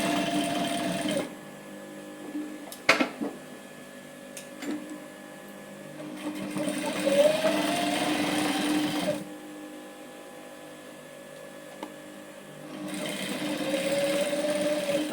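A sewing machine stitches elastic waistband shorts in bursts, each run of rapid mechanical whirring lasting several seconds with short pauses between and a few sharp clicks, close and clear.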